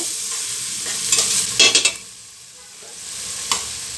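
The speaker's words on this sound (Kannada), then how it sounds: "ಇದೆಲ್ಲ ಎಣ್ಣೆಯಲ್ಲಿ ಚೆನ್ನಾಗಿ ಫ್ರೈ ಮಾಡಬೇಕು" Spices, mint and coriander leaves fry in oil with a continuous sizzle, broken by a quick burst of scraping stir strokes and spoon knocks near the middle and another clatter toward the end.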